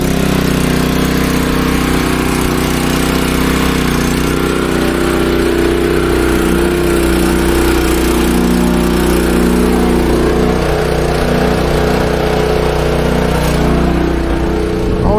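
A small engine on a lawn sprayer rig runs steadily and loudly from start to finish, a continuous mid-pitched drone with no pauses.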